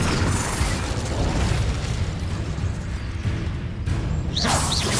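Incendio fire spell cast in Hogwarts Legacy: a dense, continuous roaring blast of game effects with booming bursts, closing in a couple of sharp whooshes.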